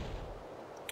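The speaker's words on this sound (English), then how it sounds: "There's a lot of cannons here." Cannon fire in the video game Okami HD: a single deep, booming blast at the start that rumbles and fades, followed by a brief sharp crack near the end.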